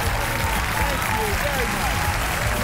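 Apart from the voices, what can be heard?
audience applause at magic awards show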